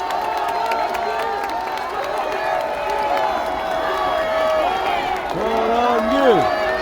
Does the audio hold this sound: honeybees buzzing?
no